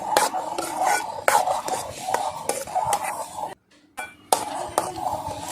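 A utensil scrapes and stirs thick roasted semolina in a metal pot with steady, repeated strokes, close by, with a brief pause near the end.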